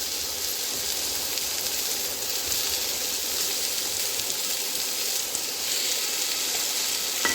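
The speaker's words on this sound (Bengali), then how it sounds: "এবার এই উচ্ছেটার সাথে আলুটাকে মিশিয়ে নিয়ে আবার একটু ভাজতে হবে।" Potato and bitter gourd fry in a pan, giving a continuous bright sizzle with faint stirring scrapes, close and even throughout, with no talking.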